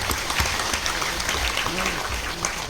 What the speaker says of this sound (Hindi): आप लोग थोड़ा सा ताली मार दीजिए